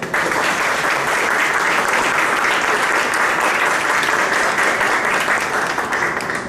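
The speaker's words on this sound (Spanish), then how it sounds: "Le damos un fuerte aplauso." Sustained, dense applause from an audience at a book presentation, loud and even from start to finish with no voices over it.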